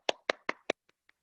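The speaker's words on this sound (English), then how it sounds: "And then I want you to clap your hands." Hands clap six times at an even, quick pace, four crisp, loud claps followed by two much softer ones, close and alone with no talking.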